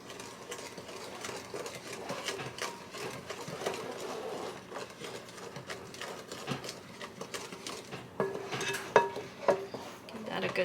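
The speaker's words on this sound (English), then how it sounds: "Give that a good swirl around." Melted butter and eggs swirled in a mixing bowl for banana bread, a steady soft scraping and sloshing with clinks of a utensil against the bowl near the end.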